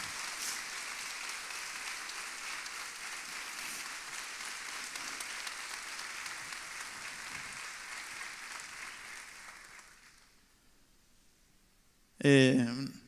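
A church congregation applauds steadily for about ten seconds in a large room, the clapping fading away before a brief burst of voices near the end.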